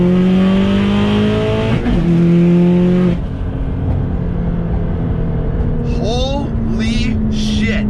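A 500-horsepower Subaru STI accelerates hard from second through fourth gear, engine tone climbing steeply, dropping sharply at each upshift, then climbing again, heard loud from inside the cabin, with brief high squeaks near the end.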